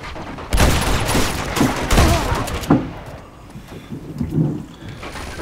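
Shotgun and gunfire bursts from the video game Uncharted 2: Among Thieves, loud heavy blasts and rapid volleys crowding the first few seconds, then dying down into quieter scattered shots.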